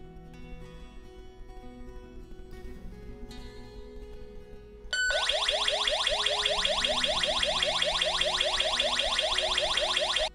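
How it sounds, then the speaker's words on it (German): After a low background hum, a GSM alarm system's electronic siren, triggered by a window opening, suddenly starts, wailing loudly in rapid repeating sweeps that continue without pause. "Sobald eine Öffnung registriert wird, startet der Alarm."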